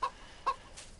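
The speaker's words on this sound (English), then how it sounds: "What's happening to our chickens?" A chicken in the video game DayZ gives a couple of short, fairly quiet clucks spaced about half a second apart, with no voices.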